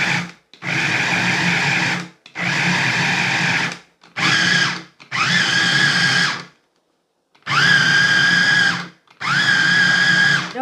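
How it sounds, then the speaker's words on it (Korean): A blender grinding chopped chili peppers without added water: loud, close motor whirring in seven separate pulses of one to two seconds each, separated by short pauses, with the pitch rising as each burst spins up. "이렇게 갈아줍니다."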